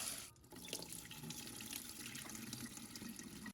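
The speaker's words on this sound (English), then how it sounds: "I rinsed the black beans until the water ran clear" Tap water runs steadily into a sink while black soybeans are rinsed, a close, continuous splashing stream with a brief dip near the start and no talking.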